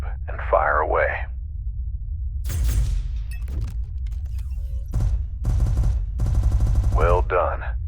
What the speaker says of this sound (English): Now, activate your turret weapon group and fire away.